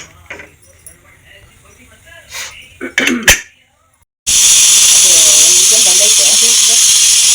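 A pressure cooker with an ill-fitting lid, cooking egg sambar, releases steam in a sudden loud, continuous hiss that runs steadily for the last few seconds after some quieter talk and kitchen clatter.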